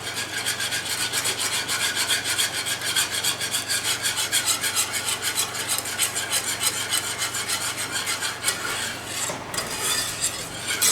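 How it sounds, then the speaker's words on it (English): A whisk scrapes rhythmically around a pan of roux for gravy, producing fast, repeated rubbing and clinking strokes at close range with no talking. "Whisk, whisk, whisk. We don't want any lumps."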